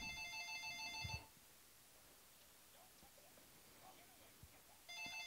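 A telephone ringing in the film Total Recall: an electronic ring with a bright buzzing tone that sounds once, falls silent over a faint hiss, then starts again at the end.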